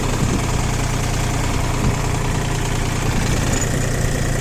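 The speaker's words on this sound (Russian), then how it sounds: "Двигатель работает ровно, без нареканий" The 18 hp diesel engine of an ISEKI TU180 Japanese mini tractor idles steadily nearby, with an even low rumble and mechanical hum that holds constant throughout, with no voices.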